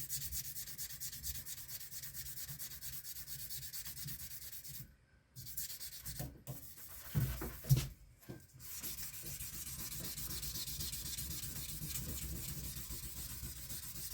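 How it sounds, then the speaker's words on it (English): Hand block sanding on a firearm part, a steady close scratchy rubbing that continues almost throughout, with a brief pause and a few louder strokes midway. "show them how I do the block sanding"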